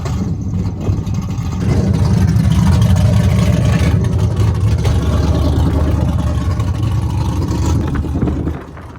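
Polaris Ranger side-by-side engine running steadily at a loud, rough low rumble, holding roughly even for most of the stretch before cutting off near the end.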